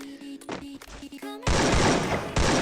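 Gunfire in a shooting video game, a loud burst of rapid shots and bangs that follows a stretch of softer game sounds and a brief musical tone.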